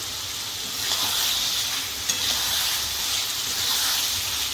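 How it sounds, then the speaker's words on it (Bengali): Fried potato pieces sizzle in a spice masala in the pan, a continuous close frying hiss with faint stirring scrapes and one small knock partway through. "আমি এবারে ভেজে রাখা আলু ভেজে রেখেছিলাম, সেই আলু টুকরোগুলো দিয়ে দিলাম"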